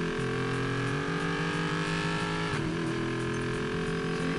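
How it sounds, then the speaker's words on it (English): Dodge Demon engine with turbo while driving, a steady loud in-cabin drone with a whining turbo tone and a brief dip around a gear change, heard alone. "So you can hear the turbo."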